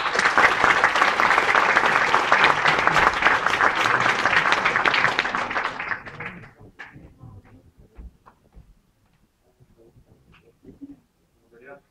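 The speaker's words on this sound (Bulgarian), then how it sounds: "Вашите аплодисменти за Юсеф Ал-Ахмад." Warm audience applause at an evening event for peace in Syria, loud and dense for about six seconds, then fading into a few scattered claps and quiet room noise.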